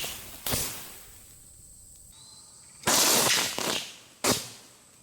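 Violent electrical arcing explosions from a crowbar shorting a bank of 100 parallel-wired car batteries, three sharp bangs with crackling: one short burst, a longer sputtering blast, then another quick crack, with a faint hum between them.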